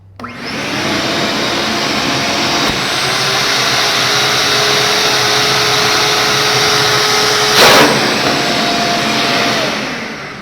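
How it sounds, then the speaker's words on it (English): A vacuum with no separator attached runs on its own during a suction lift test, giving a loud, steady motor roar with a high whine that holds for the whole stretch, briefly surging near the end. "let's test the vacuum on itself and see how many inches of lift it has"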